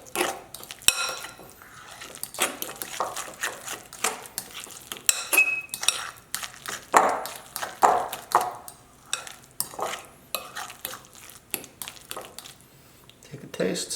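Seasoned ingredients mixed in a bowl with salt and pepper, a utensil clinking and scraping against the sides in quick irregular strokes, with a person talking intermittently over it.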